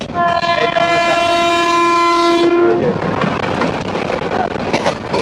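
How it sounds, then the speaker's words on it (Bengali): A Bangladesh local train approaches and passes on a Dhaka to Kishoreganj line, its loud horn blaring for a couple of seconds before the rattle and clatter of passing wagons takes over. "গাইস, আরেকটা ট্রেন আসতেছে দেখেন।"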